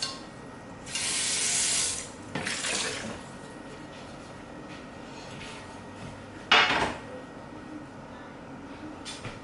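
A frying pan being rinsed under a running kitchen sink tap, with bursts of splashing water and a light clink of the pan, all close by and without talk.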